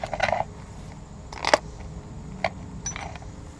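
A deep socket turning a 16mm nut on the sway bar end link of a 2003 Ford F150: a few sharp metallic clicks and clinks at close range, spaced out irregularly over a quiet background.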